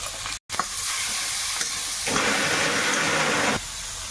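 Prawns frying in a pan with turmeric powder and salt give a steady, dense sizzle with stirring. The sizzle briefly cuts out near the start, then swells louder for a stretch before settling back.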